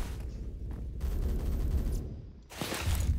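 Gunfire in the Roblox shooter Phantom Forces comes as bursts of rapid automatic fire close to the player, a short gap, then another loud volley.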